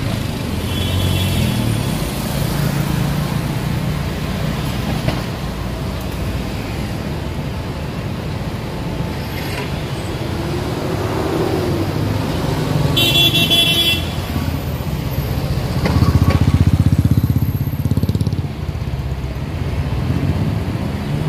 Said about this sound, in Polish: jak brzmi prawdziwa Manila.